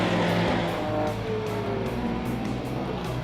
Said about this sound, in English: the Ford Escort 1600 RS from 1974, driven by Claude Boissy, that takes the lead ahead of the BMW 3-litre CSL